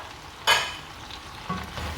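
A spoon stirs mushrooms, peppers and other vegetables for an Indonesian stew in a pot. Two quiet scraping strokes land about a second apart over a faint, low sizzle, with no talking.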